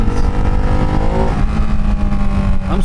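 A Ducati Hypermotard 698 single-cylinder engine runs steadily close by, its revs rising and holding in a continuous, loud drone with no pauses.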